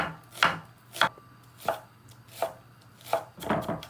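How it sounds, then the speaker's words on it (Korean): A knife finely chops onion into strips on a cutting board, about seven evenly spaced, crisp strokes, close and clear. "이제 양파는 채로 잘게 썰어주세요."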